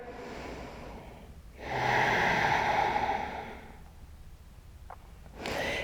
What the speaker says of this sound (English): A few long, deep breaths here.